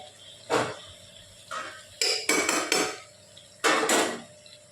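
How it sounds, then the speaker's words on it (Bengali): A utensil stirring lentils, potato and Malabar spinach in oil in a pan, heard as a few sharp metallic scrapes and clinks spaced over several seconds, close and fairly quiet. "এবার ডাল, আলু, পুঁই শাক সব ভালো করে তেলের মধ্যে মিশিয়ে নিচ্ছে।"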